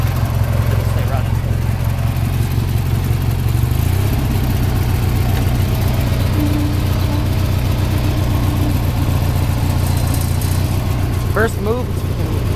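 A rough-running car engine idles steadily and loudly close by, a continuous low drone with a brief rise near the end, while people talk over it.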